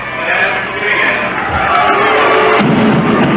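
Crowd noise at a 1971 high school basketball game, a steady roar of cheering and babble from a packed gym that swells louder near the end.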